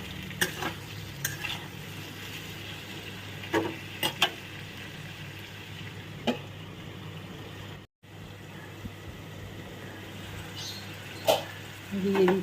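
Prawns fry in a pan over low flame, a soft continuous sizzle punctuated by intermittent clicks and scrapes of stirring, heard up close, with a brief dropout midway.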